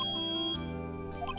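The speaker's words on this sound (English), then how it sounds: "Beep." An electronic beep from the Phoenix Wright Ace Attorney video game sounds as a sustained tone, followed by steady synthesized game music.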